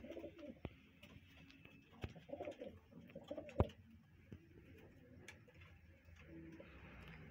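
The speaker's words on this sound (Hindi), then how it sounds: "मून भाई ये उनके घर का कबूतर है" A home-bred pigeon of a family breed coos faintly in a quiet space, low murmuring calls with a few sharp ticks and knocks scattered through.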